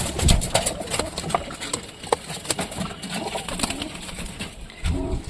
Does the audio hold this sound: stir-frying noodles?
no